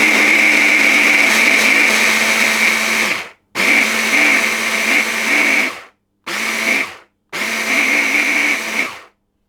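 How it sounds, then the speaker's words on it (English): An immersion blender chops almonds and oats in four loud bursts, the first two long and the last two short, with brief silent pauses between them. The motor whines steadily as the nuts and oats rattle inside. No voices are heard. "I'm only doing this in the immersion blender because it's less washing up"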